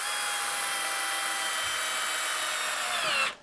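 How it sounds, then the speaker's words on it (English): A Milwaukee non-fuel single-speed 500 RPM cordless screwdriver whines steadily at a single constant speed, close and continuous, then stops abruptly at the end. "now this is the Milwaukee non-fuel screwdriver"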